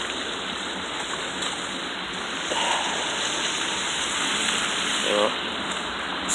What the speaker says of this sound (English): And now it's kind of sleeting and freezing rain, so it keeps going back and forth between sleet,